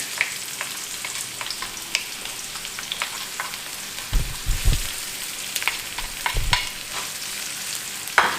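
Whole spices roasting in a hot pan for a bean curry with samp, giving a steady soft sizzle with scattered small pops and scraping stirs, close and fairly quiet, with no talking.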